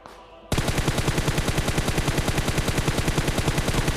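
Rapid automatic gunfire in a battle royale game begins abruptly after a short pause and continues as a loud, fast, evenly spaced burst of shots to the end.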